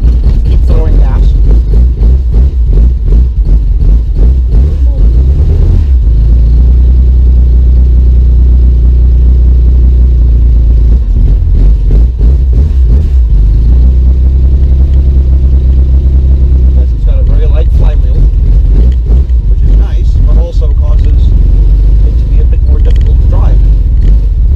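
Cold start of a car engine fed with fuel poured into the IDA carburetor: a loud, steady low rumble with bursts of revving and sputtering, and voices talking over it throughout.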